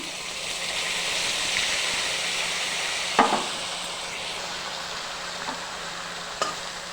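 Spice paste of Kashmiri chilli powder and salt sizzles steadily as it fries in a pan for a Bengali tangra fish curry, with a few sharp scraping stirs of a spoon or spatula.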